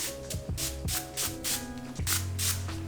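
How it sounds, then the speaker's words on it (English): Repeated short hissing bursts of a rose skin setting mist spray, around eight quick pumps in an uneven rhythm over soft background music. "take your favorite setting spray"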